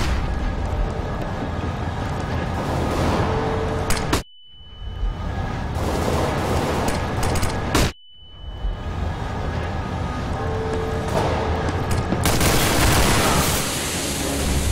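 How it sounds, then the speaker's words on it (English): Flashbang and gunfire in CS:GO matchmaking: a loud, continuous barrage of game combat noise cut by two abrupt silent drops with a ringing tone, then dense shots and blasts resume. "Throwing a flashbang."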